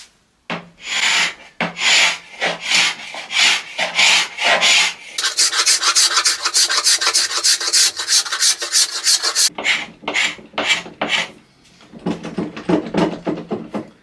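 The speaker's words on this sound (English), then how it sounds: "So I'm going to try scraping." A scraper is dragged across the high-gloss finish of a wooden veneer tabletop, making loud, close, repeated rasping strokes, then a dense continuous scrape, then more separate strokes, with no one talking.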